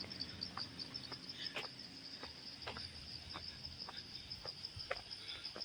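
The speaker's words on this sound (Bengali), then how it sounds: "ঝিঝি পোকা" Crickets chirp in a forest near Darjeeling, a steady high-pitched shrill trill running throughout at low volume, with faint clicks and distant ambience beneath.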